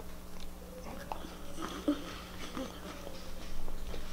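Someone bites into and chews a homemade cookie, soft crunches and mouth noises heard close, with a low background hum and faint household sounds.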